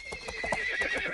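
A horse in the video game Barbie's Dreamhouse gives a short, bright whinny, close and clear, with no other sounds around it.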